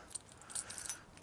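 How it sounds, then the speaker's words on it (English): A set of car keys jangling in a garage, several quick light metallic clinks and rattles close to the microphone over a quiet background. "Car key."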